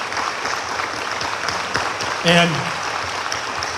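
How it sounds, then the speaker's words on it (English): Applause from an assembled audience honouring the Greater Texas Foundation at an Alamo Colleges District transfer compact event, a steady dense wash of clapping throughout with a brief spoken word over it. "let's give a huge round of applause for the Greater Texas Foundation"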